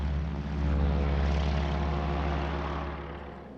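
A propeller airplane drones steadily in a film scene, its loud engine hum swelling slightly and then easing off a little, with no voices over it.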